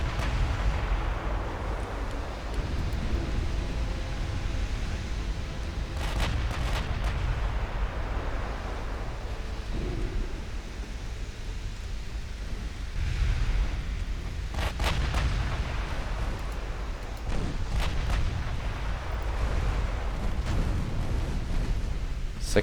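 Naval gunfire striking a battleship in the Ultimate Admiral Dreadnoughts naval game: a continuous low rumble of heavy guns with repeated booming impacts and sharper bursts of fire throughout.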